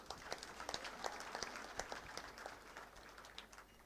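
Graduation audience applauding at a ceremony, a steady, fairly distant spatter of many hands clapping with individual claps popping out, continuing evenly and tapering slightly at the close.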